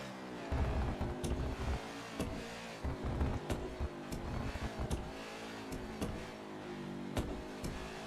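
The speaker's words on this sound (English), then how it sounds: "Really hear me playing with the throttle in the middle of the corner." A NASCAR race car engine in a video game drones steadily with repeated sharp mid-corner throttle blips and revs at Circuit of the Americas, loud and close, with clicking transients throughout.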